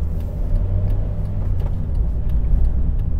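Manual car pulling away with the clutch at the biting point and light throttle, a low steady engine hum and road rumble heard from inside the cabin, constant and fairly close.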